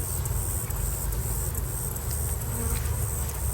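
A dense, steady hum of many honeybees buzzing close by around a hive frame of a caught swarm, continuous and loud throughout with no voices.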